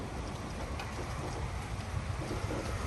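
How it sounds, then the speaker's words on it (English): Steady rain falls and patters on surfaces in a continuous dense wash, fairly close and even throughout with no voices. "Cause another day worth of rains."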